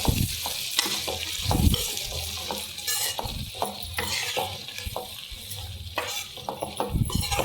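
Repeated scraping and stirring strokes as cabbage is stirred in a frying pan over a continuous sizzle, with occasional soft clinks of a utensil.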